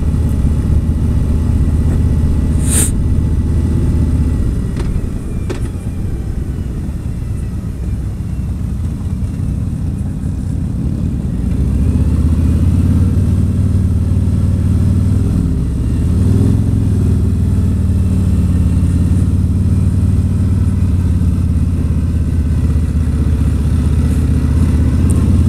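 A Harley-Davidson motorcycle engine labours up a driveway in first gear, a steady loud low rumble that holds throughout and surges slightly partway through, with no voices.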